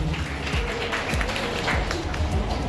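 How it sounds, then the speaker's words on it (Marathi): Audience at a cooking competition prize ceremony clapping for a winner, a brisk, uneven patter of many hands under and around a speaking voice. "नक्कीच जोरदार टाळ्या वाजवायच्या आहेत तिच्यासाठी"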